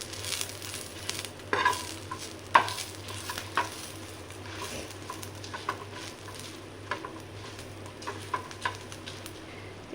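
Coriander and cumin roasting in a pan, a faint, soft crackle with light stirring scrapes and small pops, quiet and close, over a low steady hum.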